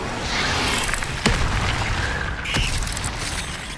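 Incendio fire spell cast in the video game Hogwarts Legacy: a steady roaring whoosh of flame with two sharp magical bursts, one near the start and one later, all fairly loud and close.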